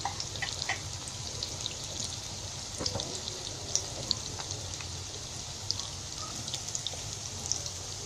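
Red amaranth leaf pakoras fry in hot oil with a soft, continuous crackle dotted with small sharp pops and spits. The sound is moderately quiet and close, with no voices over it.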